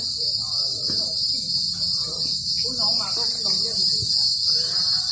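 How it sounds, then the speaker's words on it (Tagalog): Dense, steady chorus of crickets chirping continuously at a high pitch in Tiger Mountain Park, Taoyuan, with faint distant voices murmuring underneath. "Kuliglig ba yun?"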